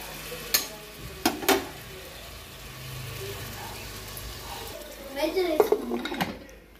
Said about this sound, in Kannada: ಚಿಕನ್ ಹಾಕಿರಿ ಈಗ ಮಿಕ್ಸ್ ಮಾಡಿದ್ದೆ ನೋಡ್ರಿ